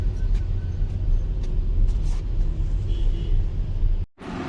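Mumbai road traffic jammed in slow-moving cars, a continuous low vehicle rumble with faint passing noises, steady throughout before a brief dip near the end.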